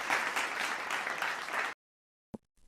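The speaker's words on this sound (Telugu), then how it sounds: "తర్వాత చప్పట్లు. మొదట మెల్లగా, తర్వాత గట్టిగా." A crowd breaks into steady, dense applause at a gathering where a proud father rises to clap. It stays loud for a couple of seconds, then stops abruptly into silence, followed by one brief knock.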